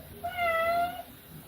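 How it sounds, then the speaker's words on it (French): A single drawn-out cat meow, clear and tonal, rising then falling over about a second, heard close in a quiet indoor room. "Sur toutes mes vidéos, tu vas miauler?"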